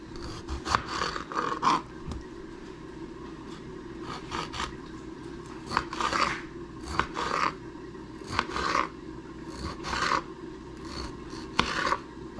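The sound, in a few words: knife cutting tomatoes into small pieces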